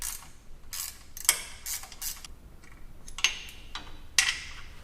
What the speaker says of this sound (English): We're going to disconnect this brake line bracket from the axle using a 12mm end wrench.